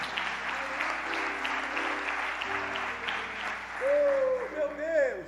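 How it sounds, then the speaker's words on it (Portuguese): Church congregation applauding in worship, a sustained, fairly soft wash of clapping with background music underneath, and a voice speaking near the end. "Você pode dar mais um aplauso ao Senhor Jesus?"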